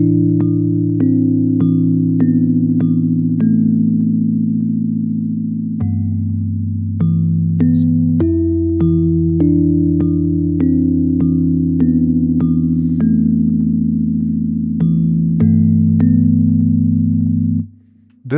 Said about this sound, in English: I started with this Rhodes piano from Laziest and wrote this chord progression.